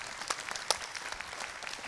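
An audience at a gun-rights panel claps briefly, the applause faint and distant over a couple of seconds.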